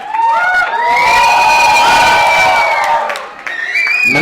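A wedding sangeet crowd cheering and whooping loudly, a sustained roar of voices with some clapping, swelling and then briefly dipping before rising again.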